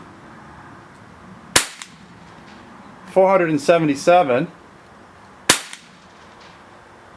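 Two sharp, loud shots from a Cybergun Sig Sauer SP2022 metal-slide CO2 BB pistol, a few seconds apart, with someone talking briefly between them.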